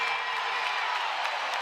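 A women's college basketball crowd cheering for Iowa in an arena, a dense, steady roar of applause and cheers that fills the whole moment without a break.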